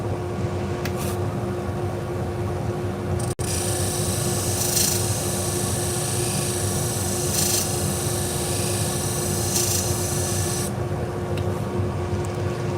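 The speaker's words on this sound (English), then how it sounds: "Alright, we got the burr off. Just do a little slight polish." Steady close rasping polish runs on a pair of salon shears after deburring, a continuous rough buffing drone with a brief click near the start and bright surging passes through the middle.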